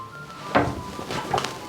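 Two wooden drawers built into a large wall-length bedroom closet in a house on a gated Kenyan estate are slid open or shut, each a short soft thump with a brief scrape, heard close in a quiet room.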